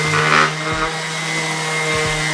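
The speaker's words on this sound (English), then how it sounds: "I'm just going to use my palm sander" Palm sander buzzing steadily over wooden boards for a fishing rod storage rack, a loud continuous close-up drone with a slight rough grinding texture and no pauses.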